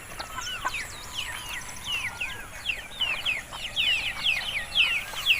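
Farm-raised chickens on a smallholding beside rice fields chirp and cluck in a steady stream of short calls, moderately close, growing busier toward the end, with open-air background noise.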